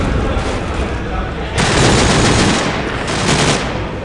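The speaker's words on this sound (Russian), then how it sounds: "По нему стреляет со всех сторон." Gunfire rattles through a round of Call of Duty Black Ops, dense continuous automatic bursts that swell loud and close around the middle of the stretch, with a voice talking over it.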